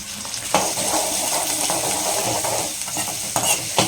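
Onion and curry leaves sizzle steadily in hot oil as part of a restaurant-style potato masala, with a few utensil clinks and stirring knocks over the dense close frying noise.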